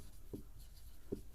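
Two short, faint scratches of pen on paper, spaced under a second apart, come from handwriting out a Class 10 maths solution in a quiet room.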